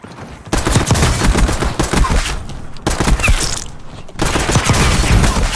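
Dense, continuous gunfire in a video game fills the whole stretch, loud volleys with only brief dips between bursts.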